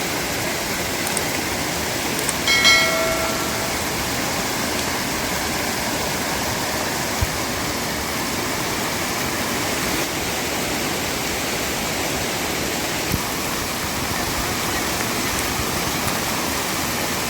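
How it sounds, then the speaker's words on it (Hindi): A swollen monsoon river rushes steadily on a trek near Ratangad in the Sahyadri hills of Maharashtra, a continuous even roar of flowing water with no speech, holding constant for the whole stretch. "बारिश ज़्यादा होने का ये फ़ायदा हमें हुआ कि हमें एक खूबसूरत सा रिवर देखने मिला।"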